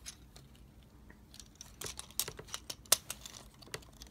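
Plastic parts of a Transformers The Last Knight Deluxe Class toy are folded and clicked into place, a run of small close ticks and snaps growing busier toward the middle, quiet and without voices.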